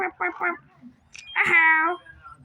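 A cartoon cat in the Toca Boca video game gives one drawn-out, whiny meow near the end, after a short burst of a person speaking.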